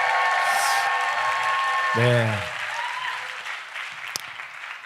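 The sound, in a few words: applause in church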